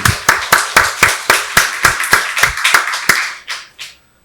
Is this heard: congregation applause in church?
yes